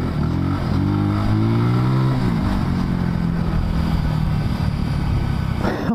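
A Voge 300 Rally motorcycle engine droning steadily while riding off road, close and loud, its pitch rising then easing back as the throttle changes, with wind rumble throughout.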